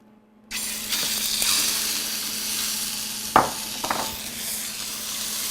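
Ground lamb hitting hot extra virgin olive oil in a pot, a sudden steady sizzle that holds for several seconds with a couple of sharp clinks and scrapes as it is stirred.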